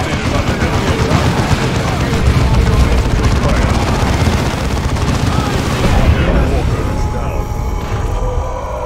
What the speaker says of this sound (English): Weapons fire has us pinned.